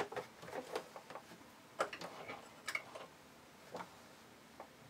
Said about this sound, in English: I'm going to do a back tack to secure that in place